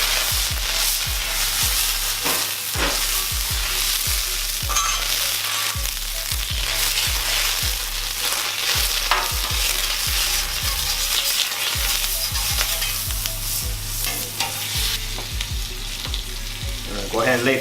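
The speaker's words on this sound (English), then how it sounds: "I'm going to go ahead and lay down a little bit of butter." Butter sizzles on a 36-inch Blackstone griddle, a loud continuous frying hiss close by with a low steady hum and repeated soft knocks and scrapes underneath, no voices.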